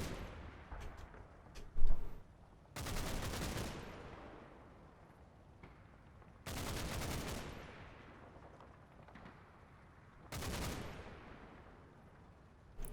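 Bursts of machine-gun fire from a Bren carrier in Combat Mission: Battle for Normandy: three loud sustained volleys spaced a few seconds apart, with quieter scattered shots and a sharp bang between them.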